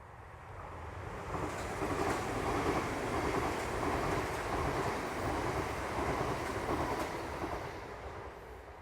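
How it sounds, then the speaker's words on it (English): A Southern train passes along a railway line near a footpath bridge, a steady rushing rumble that swells and holds for several seconds, moderately distant with no talk. "That was a rare sight in the United Kingdom. It's called a southern train."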